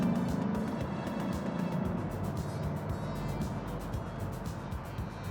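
Mercedes-Benz 500SEC AMG with a 5-liter V8 accelerating, heard from inside as a steady, fairly loud engine drone with rumbling road noise throughout and no speech.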